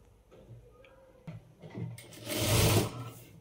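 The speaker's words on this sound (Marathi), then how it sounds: "अशा प्रकारे याला पण मी जोडून घेणार आहे।" A sewing machine stitching a lined sleeve seam with piping, starting with a few soft clicks and then running in a loud close burst of rapid mechanical whirring.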